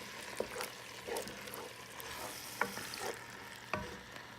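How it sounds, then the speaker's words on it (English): Food frying in a pot keeps up a soft, continuous sizzle while a spoon stirs it, with a few distinct scrapes and knocks spaced a second or so apart, all close and fairly quiet. "Stir this a little bit to make sure everything stops frying"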